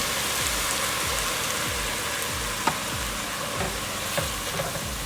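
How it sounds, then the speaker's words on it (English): Mushrooms and onions in a hot pan for beef stroganoff, deglazed with red wine vinegar, a dense even sizzle with repeated scraping stirs and a few sharp pops. "I'm going to deglaze with the Vinoso red wine vinegar"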